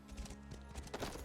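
Horse hooves clip-clop in the video game Elder Scrolls Online, a quick run of close, even hoofbeats with a few louder strikes.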